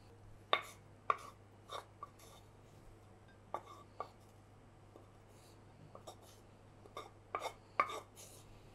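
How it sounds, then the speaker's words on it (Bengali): Cauliflower florets broken apart by hand for a Bengali fulkopir bhorta, giving a dozen or so sharp, crisp snaps and cracks at irregular intervals, close up over a quiet kitchen hum with no talking. "এটাকে মানে একটু ভাঙা ভাঙা করে নিলাম"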